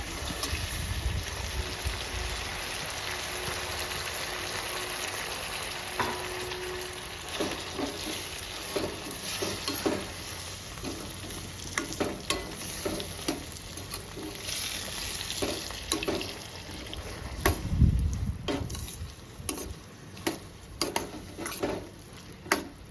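Chopped tomato and yellow cucumber frying with browned onions in a pan, a continuous close sizzle joined by frequent crackling bursts and occasional utensil scrapes and taps as the mix is stirred.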